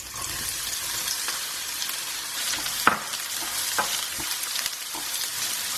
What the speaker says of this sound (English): Now we're going to saute these onions till they turn a light golden brown